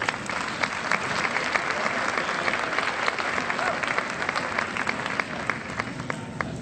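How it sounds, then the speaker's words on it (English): A stadium crowd at a school district arts festival gives a sustained round of applause, dense steady clapping at moderate distance with no voices over it. "So give yourselves a round of applause."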